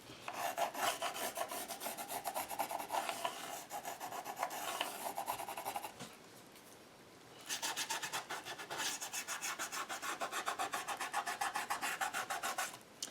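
A Stabilo pencil rubbing along the edges of a mixed media collage, rapid scratchy back-and-forth strokes close up, in two bursts separated by a brief quiet pause, with no talking.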